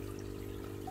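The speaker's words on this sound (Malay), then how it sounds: "So saya pun on oksigen aquarium ini ke dalam kita punya sistem. Kalau kawan-kawan tengok, dia ada bubble macam ni." Aquarium air pump aerating the water of a hydroponic growing tank, giving a steady, quiet, continuous bubbling trickle with a low pump hum underneath.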